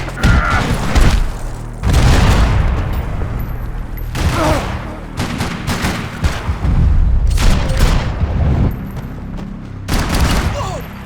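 Heavy gunfire from the Max Payne 3 video game, with repeated loud bursts and booming volleys across the whole stretch, mixed with game voices and effects.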